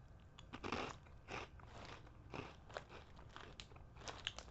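Close, crisp crunching of Calbee baked shrimp chips, twisty salted shrimp-flavoured snacks bitten and chewed in a quick run of sharp crackly bites with no talking.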